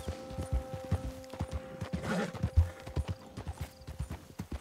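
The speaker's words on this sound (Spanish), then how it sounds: "Hay el caballo que se me cansa." Horse hooves clip-clop at a steady walking rhythm in the Red Dead Online video game, crisp and close, with a low hum running underneath.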